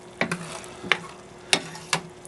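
Shepherd's pie meat filling with Worcestershire sauce and tomato paste simmering and thickening in a pan, a low bubbling sizzle broken by four sharp scraping stirs of a utensil against the pan, close and distinct.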